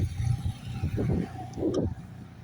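A car drives past on a residential street at home, a low rumbling engine swelling and fading over a couple of seconds, fairly close, with no talk over it.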